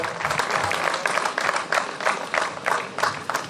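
Applause from the crowd at a hillclimb rally awards ceremony, greeting the class 4 winners on the podium; steady moderate clapping with rhythmic pulses, heard without talk.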